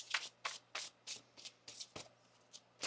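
Tarot cards being shuffled by hand, a string of crisp riffling bursts at an even, quick rhythm, close and clear over a faint steady hum, with no talking.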